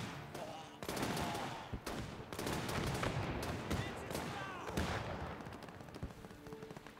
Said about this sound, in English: Still firing.